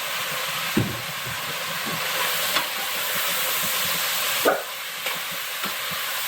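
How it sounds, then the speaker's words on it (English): Green beans sautéing in a pan with salt and pepper, giving a steady close sizzle with a few soft clicks and knocks of stirring throughout. "Just let them saute a little bit."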